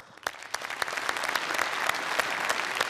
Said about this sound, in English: So one great and big applause for you guys as well.